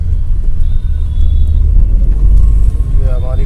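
A Maruti Alto K10 car driving at about 40, heard from inside the cabin as a loud, steady low engine and road rumble.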